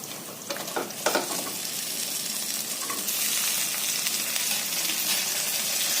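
Mutke dumplings sizzle and fry in a hot oil mixture, a loud, steady crackling hiss that fills the whole stretch with a few sharper spatters early on.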